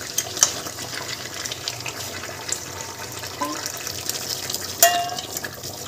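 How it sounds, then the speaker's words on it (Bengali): Hot water pours into a pot of duck curry, a steady close watery rush with light stirring noise and a brief clatter near the end. "গরম জলটা এখানে দিয়ে দেবো।"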